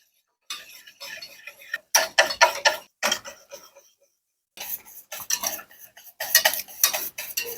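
A spoon scrapes and clinks against a pot while stirring a cocoa and milk mixture on the stove, heating it to a boil, in bursts of quick rattling strokes separated by short pauses, close and fairly loud with no talking.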